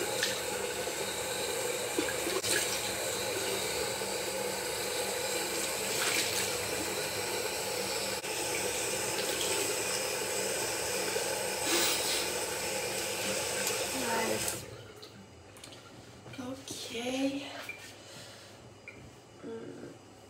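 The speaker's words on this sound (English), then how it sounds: "Okay, I will wash my face again." Tap water runs steadily into a sink during face washing at a bathroom basin, a continuous splashing hiss that stops abruptly partway, leaving quieter small sounds and faint movement afterward.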